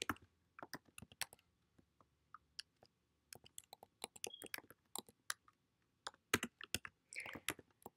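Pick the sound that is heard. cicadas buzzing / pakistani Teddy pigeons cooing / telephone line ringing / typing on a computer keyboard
typing on a computer keyboard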